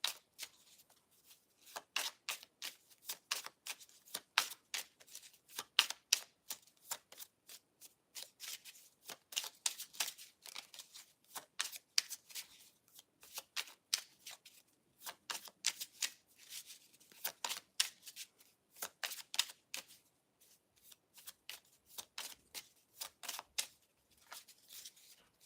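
Tarot cards are shuffled by hand in repeated quick bursts of crisp riffling and flicking, close and fairly quiet, with brief pauses between runs and no talk.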